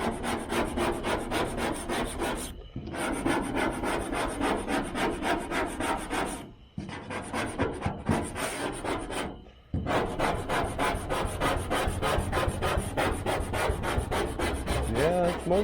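A hand scraper rasps rust off a 1978 V8 Nova coated with phosphoric acid, in long steady gritty strokes with a few brief pauses, close and loud, with no talk.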